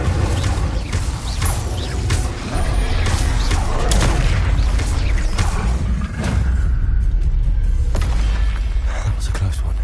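Incendio fire spell in the Hogwarts Legacy video game, a dense, loud roar of bursts and whooshes that runs for the whole stretch among other combat effects and booming impacts.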